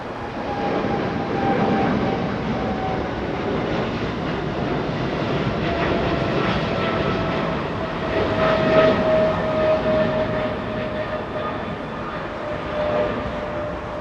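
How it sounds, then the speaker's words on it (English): A Boeing 777 departs Los Angeles International Airport bound for Cincinnati, a broad, steady jet engine roar with a faint whine, heard at a distance and rising slightly midway through, with no talking. "777 flying to Cincinnati."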